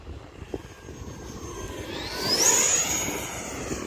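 An E-flite F-18 Blue Angels RC jet goes to full throttle in flight, its whine climbing in pitch and loudness to a peak midway, then holding steady outdoors with no talk.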